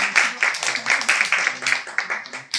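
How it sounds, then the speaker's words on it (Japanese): An audience at a small musical performance claps in a quick, steady rhythm of sharp bursts, fairly close and loud, with a voice speaking in between. "一つ大きな拍手をお願いします。"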